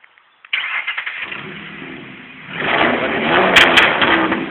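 A car with no brakes cranks as its engine tries to start: a sharp burst of starter grinding, then a rising, rough mechanical roar that swells louder toward the end, heard alone without talk.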